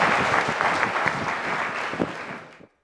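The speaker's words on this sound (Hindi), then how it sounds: "मैं जोरदार तरीके से तालियां बजा करके सर का स्वागत करूंगी।" An audience at an exam-preparation seminar claps loudly to welcome a guest speaker, a dense, steady wash of many hands that runs nearly three seconds before stopping abruptly.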